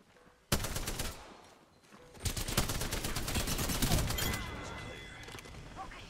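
Gunfire in the Apex Legends video game: a sudden loud burst of rapid automatic shots, a brief lull, then a sustained heavy volley of rapid fire that tapers off, with no voices.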